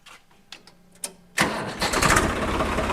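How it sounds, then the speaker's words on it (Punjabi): A Swaraj 855 tractor started with its self-starter: a few short cranking clicks, then the diesel engine catches with a loud burst and settles into a rough, throbbing run close by. "ਪਹਿਲੇ ਇਹਦੀ ਸੈਲਫ ਮਾਰ ਫਿਰ ਦੇਖਦੇ ਆਪਾਂ"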